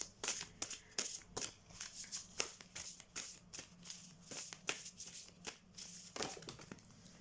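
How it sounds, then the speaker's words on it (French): Oracle cards shuffled by hand close up, a brisk series of dense riffling, slapping bursts in quick irregular rhythm, fairly quiet and without talking. "J'adore battre les cartes."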